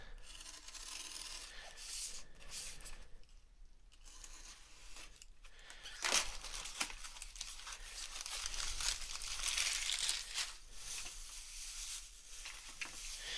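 Packaging crinkles and tears as a parcel holding a yellowed thruster part for an Alpha Probe toy is opened, a steady close rustle with louder rips and scrapes partway through, no talking.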